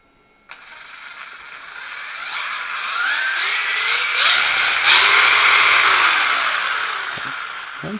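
A Hosim X07 RC truck, running on a 2S battery and held with its tires off the ground, has its electric motor throttled up. It gives a rising, whining spin that holds strong and loud for several seconds and then eases off. No one speaks.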